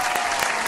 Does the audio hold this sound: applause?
yes